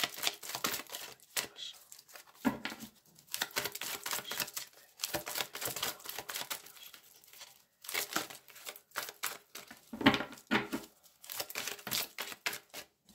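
Tarot cards slipping, falling and being shuffled, a dry papery riffle in irregular bursts with short pauses, close and fairly quiet, with no voice.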